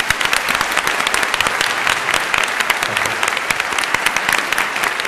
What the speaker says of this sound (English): I'd like to invite a round of applause to congratulate him on his third Emmy Award.